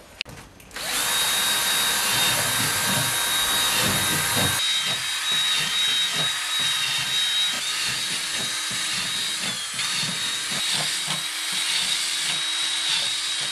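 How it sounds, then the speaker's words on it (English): A power drill bores holes into a plastic self-watering container, a loud sustained whirring grind that starts abruptly after a brief pause, holds steady, then shifts to a slightly lighter continuous buzz, alone with no talk. "this is what it looks like after you drill your holes"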